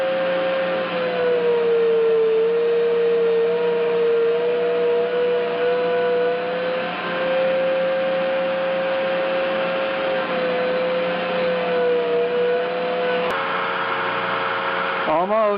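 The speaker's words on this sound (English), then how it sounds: "I need to start grinding slowly to start fitting the seal" A grinder works an apex seal for a 13B rotary engine from a 1976 Mazda RX-5 Cosmo, a steady loud whine and hum that holds almost unchanged throughout with slight pitch dips.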